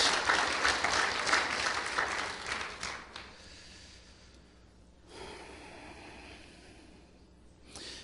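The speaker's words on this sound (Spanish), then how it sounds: "Dale el aplauso fuerte al Señor para que exprese alabanza al Rey de Reyes" A church congregation claps loudly in praise, dense applause filling the first three seconds, then thinning to scattered claps and a low murmur with a brief swell near the end.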